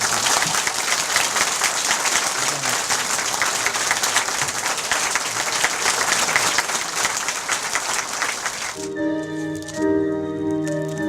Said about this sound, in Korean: 여러분 크게 박수로 축하해 주시면 감사하겠습니다.